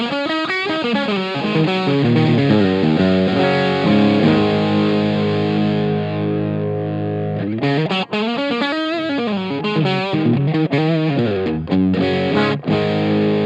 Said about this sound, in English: it's a pure overdrive, so it does not go into distortion territory despite how high you set the drive knob